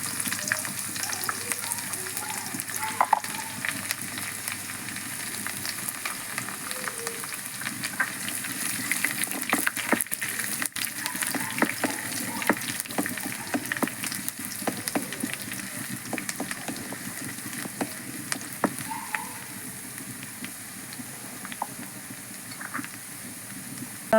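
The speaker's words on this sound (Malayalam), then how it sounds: "നമ്മുടെ കടുക് പൊട്ടി വരുന്നിട്ടുണ്ട് നമുക്കതിലേക്ക് ഒരു ചെറുള്ളി ഞാനെടുത്ത് ചീകി അരിഞ്ഞിട്ടുണ്ട് കട്ടി കുറച്ച് അത് നമുക്കതിലേക്ക് ഇട്ട് കൊടുക്കാം" Sliced shallots sizzle steadily in hot oil with popping mustard seeds, a continuous bright frying hiss with scattered small crackles and pops throughout, close and fairly loud, no talking.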